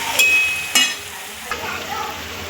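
Vegetable curry with fresh coriander gets stirred in a pan, two sharp scraping clanks of the spoon standing out over a soft background sizzle, with another lighter knock a moment later.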